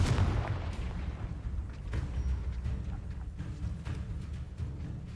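A Confringo spell blast in Hogwarts Legacy bursts loudly at the start and rumbles away into a noisy, crackling game soundscape with a few faint smaller impacts afterward.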